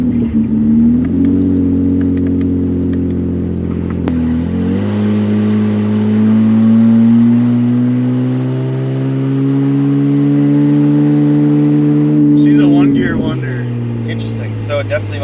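A BMW car engine, rebuilt after flood damage and apparently in limp mode, drones steadily and rises slightly in pitch, a sustained close revving hum, with talk heard over it near the end.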